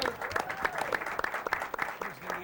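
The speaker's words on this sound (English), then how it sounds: "Can we have a round of applause for James?" A short burst of clapping from a small audience, loose and uneven, with a voice speaking over it.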